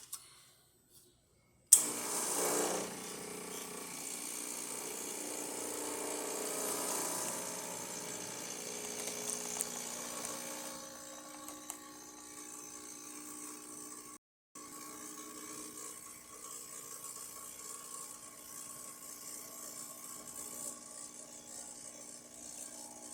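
A Rancilio Silvia espresso machine, freshly serviced and tuned up, runs its pump to pull a test shot. After a sharp start comes a steady, close mechanical hum lasting about twenty seconds, broken once by a brief gap.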